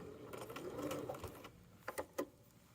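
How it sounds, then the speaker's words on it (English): Sewing machine backstitching along a hem seam on a hoodie sleeve (Kwik Sew K3045 pattern), a close, steady mechanical whirr for about a second and a half, followed by a few quieter clicks and taps. "So I'll go ahead and backstitch"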